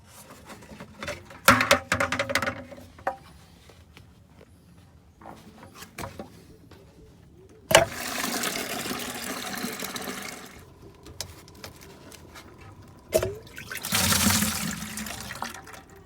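Water gushes and splashes from an RV's low-point drains in several separate bursts, loud rushing pours separated by quieter dripping and trickling pauses.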